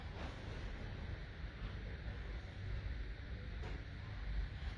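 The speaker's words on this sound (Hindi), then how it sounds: "बड़ी प्यारी हवा चल रही है" Outdoor breeze buffets the microphone in a steady low rush with slight swells, mostly alone with no clear speech.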